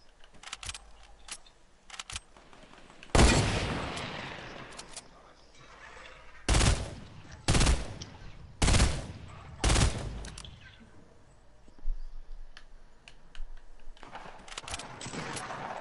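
Gunfire in the Fortnite battle game comes as several loud bursts of rapid shots separated by quieter stretches, with scattered distant pops and a voice speaking between them.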